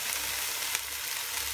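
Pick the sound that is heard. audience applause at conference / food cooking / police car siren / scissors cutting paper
food cooking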